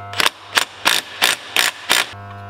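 Six short, evenly spaced bursts from an air impact wrench tightening bolts during an ARB Air Locker install on a Toyota Hilux Surf, each rattle sharp and close with brief pauses between, no talk.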